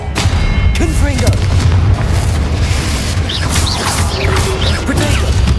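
Confringo blasting spells explode in the video game Hogwarts Legacy, loud booming blasts with rumbling crashes amid dense game combat noise, and short shouted voices break through above the din.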